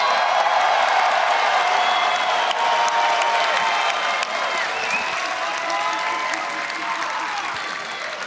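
At an Apex Legends ALGS Year 3 Split 1 Playoffs finals esports event, a large arena crowd applauds and cheers, the clapping and whoops holding steady and loud throughout, tapering slightly toward the end.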